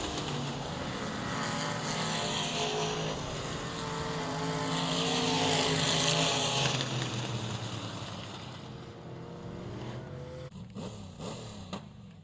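Race cars at South Texas Speedway roar past in a sustained, loud engine drone that swells toward the middle and then thins into scattered revs and clatter near the end, with no talk over it.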